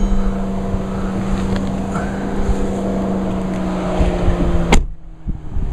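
A diesel engine idles with a steady low drone and a constant hum, then cuts off abruptly near the end, leaving near silence with a faint clunk.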